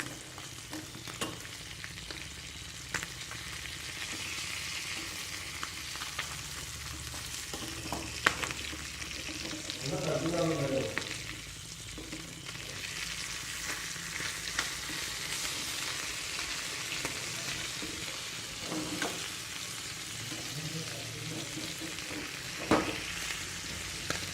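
Sardines frying in oil in a pan with green chilli, giving a continuous close sizzle with occasional scrapes and knocks as the fish are turned over.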